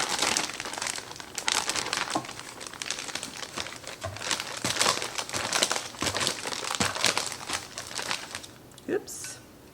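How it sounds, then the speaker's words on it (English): Dry seasoning with paprika being mixed in a plastic bag, a steady close crinkling and rustling that runs throughout with occasional sharper crackles, over light background noise. "And then I just mix it all together in the bag."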